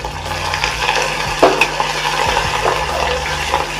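Curry leaves and coriander fry in hot oil, making a close, steady sizzle with a few sharp scrapes and clinks of a spatula against the pan.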